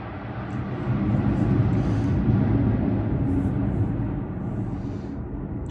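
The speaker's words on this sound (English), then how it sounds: "I'm close to a military base, and there's all these damn airplanes." Military airplanes fly overhead near a military base, a low, broad roar that swells over a few seconds and then slowly fades, heard alone without talk.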